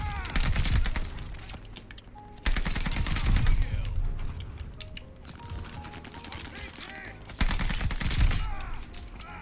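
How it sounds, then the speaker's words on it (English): Call of Duty Vanguard gunfire in Arms Race mode: dense, rapid automatic bursts and overlapping shots, loud and continuous, in waves of heavier volleys. "All those gunshots."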